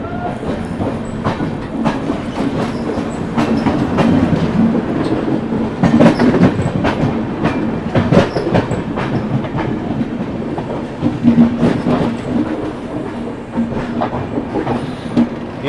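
The Gorakhpur–Charlapalli Express passes by close and loud, its railcar wheels clacking rhythmically over rail joints in a continuous rumble with a faint horn-like tone running underneath.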